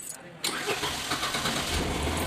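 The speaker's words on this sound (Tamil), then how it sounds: "6 மாதத்துக்கு அப்புறம் பேட்டரி சேஞ்ச் பண்ணோன்னே ஸ்டார்ட் ஆகிடுச்சு" Tata Nano car engine cold-starting after six months idle with a fresh battery: a quiet lead-in, then the engine catches abruptly and settles into a loud, steady close-up idle.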